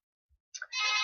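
A phone rings indoors, a brief soft thump followed by a bright electronic ringtone that swells and holds loud and close, with no talking.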